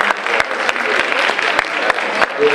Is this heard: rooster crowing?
no